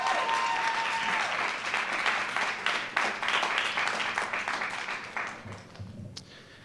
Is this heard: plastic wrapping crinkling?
no